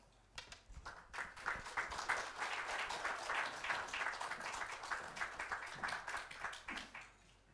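A church congregation claps to welcome the pastor to the pulpit, with dense, steady applause lasting several seconds before fading out.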